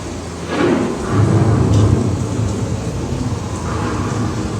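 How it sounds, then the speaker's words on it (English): A thunderstorm sound effect on a theme park boat ride rolls as low, rumbling thunder over a constant hiss of rain-like noise, swelling after the first half second and holding steady. "The approaching storm may seem violent and destructive to us, but to nature, it's a new beginning in the cycle of life."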